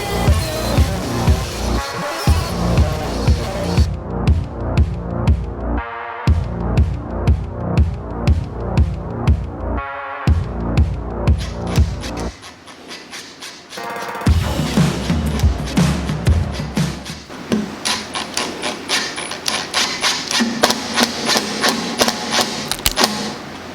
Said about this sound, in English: While I was drilling into the leg